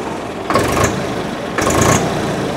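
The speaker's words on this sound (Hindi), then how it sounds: "स्मूथ स्टार्टिंग के साथ में ट्रैक्टर है आवाज़ आप लोग सुन सकते हो" A tractor engine idles steadily close by, with two short rises in loudness as it briefly revs; there is no talking.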